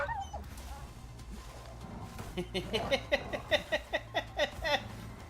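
A dog in a video game whimpers and yips in a quick rhythmic series of short cries, moderately loud over a low steady game background hum, with no one speaking.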